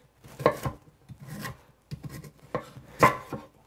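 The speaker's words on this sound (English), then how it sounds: "I'm just going to cube it, make pretty large bite-sized cubes" A knife cubing food into large bite-sized pieces for a sous vide Thanksgiving dish: about six crisp chops on a cutting board, close and distinct, separated by short quiet gaps with a faint rubbing between strokes.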